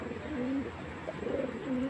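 An old-breed Sapchila pigeon gives soft, quiet coos in short phrases, with a faint steady background hum and no talking.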